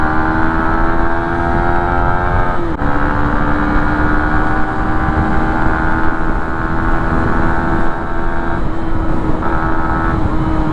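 A Yamaha Sniper 150 motorcycle fitted with a plug-and-play Eastar Speed ECU is ridden hard on a city road. Its engine gives a loud, steady, high-pitched drone throughout, with a brief break in pitch partway through and no talking.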